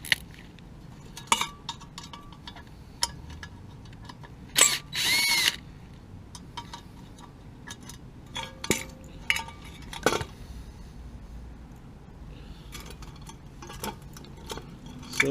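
Metal parts clink, scrape and rattle as the pilot assembly is worked loose from a gas water heater burner, with scattered sharp knocks and a few louder clanks between quieter handling noises.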